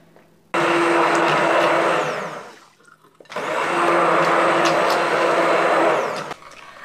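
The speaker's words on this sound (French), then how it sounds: "Et on va revenir mixer tout ça avec notre mixeur plongeant." An immersion blender purees garden vegetables for gazpacho in two loud, steady whirring bursts of a few seconds each, with a brief pause between them.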